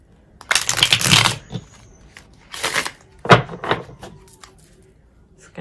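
Tarot cards being shuffled up close: one long riffling burst, then a few shorter shuffles separated by quiet pauses.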